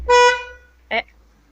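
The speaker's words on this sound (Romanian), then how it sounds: "Claxon frumos, de aici." A UTB 650 tractor's horn sounds one steady, fairly loud toot, then a shorter, rougher burst follows a moment later.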